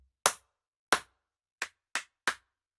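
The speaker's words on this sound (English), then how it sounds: "the flat hand clap and the pendulum" Five sharp body-percussion hits, flat hand claps and pendulum slaps, ring out alone in an uneven pattern, two spaced strikes followed by three quicker ones, each crisp and dry with a fast decay in a quiet room.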